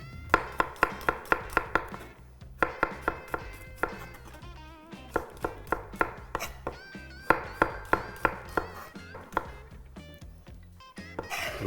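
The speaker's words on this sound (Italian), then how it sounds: "Aglio, l'affetto" A knife slices garlic on a cutting board in quick bursts of sharp, regular taps, several runs of rapid chops separated by short pauses, close and clear.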